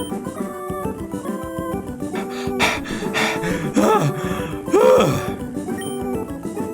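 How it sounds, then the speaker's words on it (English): Heavy, strained breathing with grunting gasps from a person playing Pokémon Emerald, loud and close, rising in bursts around the middle over steady, busy chiptune game music. "Sorry for the heavy breathing."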